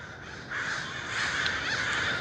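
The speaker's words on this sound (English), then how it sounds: "So we have some crows up above us." Crows caw repeatedly from the trees above a monarch butterfly grove in Pacific Grove, harsh overlapping calls that sound moderately close and steady, with no talk.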